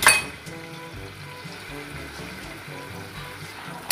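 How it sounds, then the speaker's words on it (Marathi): Chili flakes and garam masala fry in hot oil for noodles, giving a soft steady sizzle with a faint clink of a pan at the start, quiet and close with no voices. "आणि आपण आता हे छान फ्राय करून घेणार आहोत"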